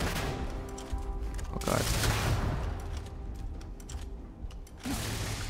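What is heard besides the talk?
spaceship guns firing in video game Starfield space battle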